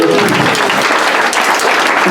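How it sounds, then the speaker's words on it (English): A room of people at a nurses' week cooking contest breaks into loud, dense clapping that stays steady throughout. "Please give everybody a round of applause."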